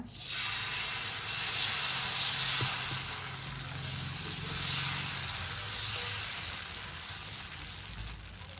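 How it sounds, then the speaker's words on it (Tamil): Thoothuvalai dosa batter poured onto a hot griddle, a loud, sustained sizzle and hiss that starts abruptly and runs steadily, with a brief clink partway through and no talk. "தோசைக்கல் சூடாக இருக்குது ஊற்றிக்கலாங்க"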